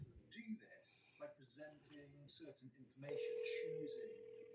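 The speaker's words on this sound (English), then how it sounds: "There's 4 rings." A telephone call ringing out on a home landline, a steady ring tone sounding at the end after faint talk and background noise, fairly close on the line.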